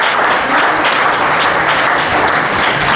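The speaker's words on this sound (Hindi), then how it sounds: "जोरदार तालियां बजाइए एक बार और" Sustained, dense applause from a large audience at an education conference at a DIET campus, steady and loud throughout with no talking over it.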